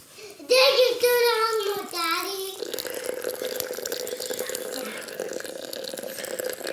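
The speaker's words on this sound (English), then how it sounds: "we are going to fill it up with 800 grams of water" Hot water poured from a kettle onto coffee grounds in a Bodum French press, a bright gurgling splash at first that settles into a softer steady trickling pour.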